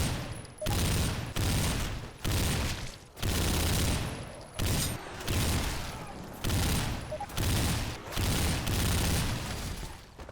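Gunfire in Left 4 Dead 2 running a horror modpack: loud, close bursts of rapid shots repeating in a steady rhythm of roughly one-second volleys, each ringing briefly before the next, with no talking.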